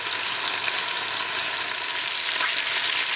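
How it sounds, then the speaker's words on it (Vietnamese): Steady, close sizzling of marinated chicken thigh skin frying in a pan for a roast chicken dish, a dense even crackle with no talking. "Mình chiên lâu lâu cái da để cho nó ra bớt mỡ đó."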